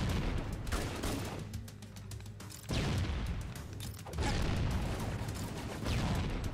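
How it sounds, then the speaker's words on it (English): Grenade blasts and gunfire rumble in Halo co-op play, booming explosions in bursts with crackling shots between them, loud and dense with no talk. "I'm just using infinite grenades just to kill these guys as quick as possible."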